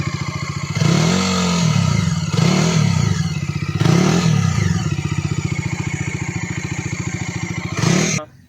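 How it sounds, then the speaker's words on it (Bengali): A Bajaj Dominar 250 motorcycle engine idles with a deep, thumping pulse and is revved with the throttle several times, each rev a loud, close surge in bass that falls back before cutting off at the end. "রেভ করলে থ্রটল দিলে তার সাউন্ডটা বেসটা আরও বাড়ে।"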